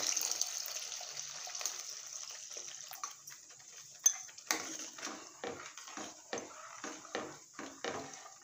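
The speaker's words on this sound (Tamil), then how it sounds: "இந்த சமயத்தில் நம்ம பால் ஊற்றிக்கலாம்." Boiled milk is poured into a pan of carrot payasam, making a soft, steady liquid pour at first. Quiet clinks and stirring knocks from the cookware follow at a close, low level.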